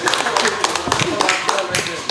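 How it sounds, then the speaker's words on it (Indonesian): A live audience at a comedy show claps in a dense, uneven burst, loud and close, while a voice talks over it. "Tepuk tangan buat Eki dari Manchester"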